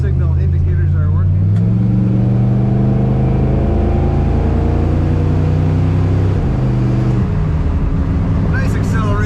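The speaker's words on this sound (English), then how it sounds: "Nice acceleration in this car." A 1965 Ford Falcon with an automatic transmission accelerates from inside, its engine droning loud and close with rising pitch and a clear shift near the middle, under a voice talking throughout.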